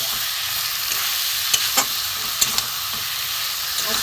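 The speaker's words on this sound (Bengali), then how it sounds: "আমি চিকেনগুলো দিয়ে দেবো ভালো করে কষিয়ে নেবো" Raw chicken stir-fried in hot oil for a papaya chicken curry, giving a continuous bright sizzle broken by a few sharp spatula clicks and scrapes close by.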